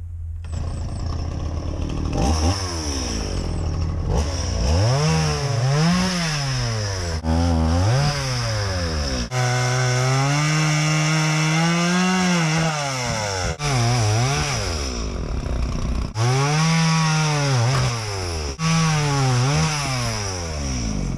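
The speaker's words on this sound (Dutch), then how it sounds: "Ik moet echt vandaag een begin maken aan het zagen van mijn stookhout." A chainsaw cuts firewood, loud and close, its engine repeatedly revving up and bogging down as the chain bites through logs, with a long sustained cut in the middle and steady idling between cuts.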